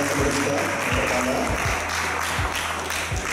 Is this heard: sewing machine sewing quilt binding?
no